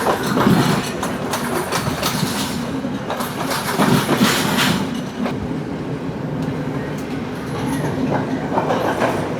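A passenger train runs along the Indian Ocean coast near Colombo, its wheels rumbling and clacking steadily over the rails in a loud, continuous roar with occasional surges.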